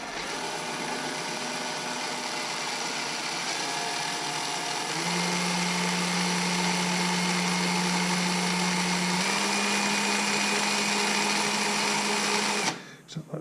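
A power drill runs steadily with a blunt bit, giving a loud, sustained whine that shifts pitch partway through as the load changes, then cuts off abruptly near the end.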